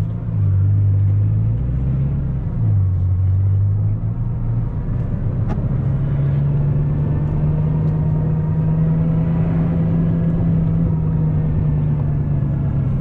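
A Bugatti Chiron pulls away on a Manchester drive, its engine a steady low rumble that shifts pitch early, then settles into a sustained droning tone, heard up close with no talking.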